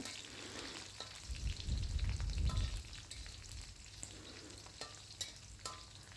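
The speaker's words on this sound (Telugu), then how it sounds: "ఎండ్రేలు క్రిస్పీగా కావాలనుకున్న వాళ్ళు ఇలా ముందుగా వేసి వేయించుకోండి" Dried prawns and green chillies fry in a pan with a soft, steady sizzle that swells for a second or two before easing, with a few light clicks of a spoon against the pan.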